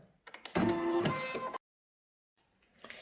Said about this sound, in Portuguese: selecionei aqui a matriz e a primeira costura é a costura de marcação